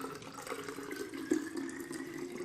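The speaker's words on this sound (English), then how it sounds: "then we're going to pour the water inside the bottle first." Water poured into a plastic bottle, a steady rushing, gurgling stream that stays close and even for the whole stretch, with no talk.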